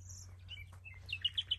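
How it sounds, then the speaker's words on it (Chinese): Small birds chirp in the countryside of Kashan, Iran, giving a few faint high tweets and then a quick run of brighter chirps, heard at a distance over a low steady hum. "然后听着鸟叫"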